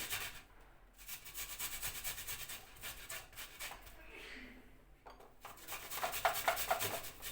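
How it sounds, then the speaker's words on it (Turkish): Garlic cloves are grated on the fine side of a hand grater while preparing a Turkish oven-baked meatball and potato dish, giving a steady, close scraping rasp that continues through the clip with brief pauses. "Sarımsakları rendenin ufak gözüyle rendeleyeceğim"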